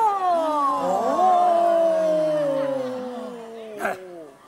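A voice imitates a ghost's drawn-out, dog-like howl in a comedy sketch, loud and sustained with wavering, falling pitch for about four seconds, ending in a brief noisy burst.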